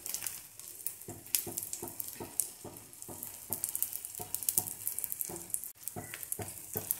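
Bread omelette cooking in a pan over a low simmer, a continuous soft sizzle broken by regular light taps and presses of a spatula, close and fairly quiet, with no voices.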